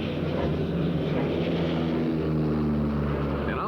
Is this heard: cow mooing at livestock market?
no